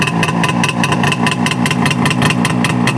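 A Ural "Yubileika" motorcycle engine idles with its revs deliberately raised, a steady, loud, even throb with a regular pulsing rhythm close up, no voices over it.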